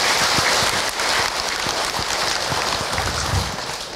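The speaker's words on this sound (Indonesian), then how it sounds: "Tepuk tangan buat Bunda semua." Audience applause for a woman during an Islamic religious talk by a preacher, a dense, steady wash of clapping from a crowd that fills the whole stretch and tapers slightly at the end.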